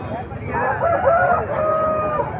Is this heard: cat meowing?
no